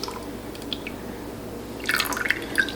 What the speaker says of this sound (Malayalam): ഈ ക്രീം ഈ മിക്സിയുടെ ജാറിലേക്ക് ഒഴിക്കുക.